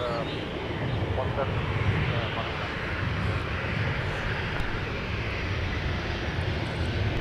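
A fixed-wing airliner taxiing at Minneapolis–Saint Paul airport gives a steady, broad engine rumble and hiss that holds for the whole stretch, with faint voices underneath.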